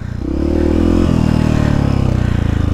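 A motorcycle climbs a steep rocky dirt trail in São Paulo, its engine loud and close, revving up under strain, dipping briefly, then holding a steady throbbing drone.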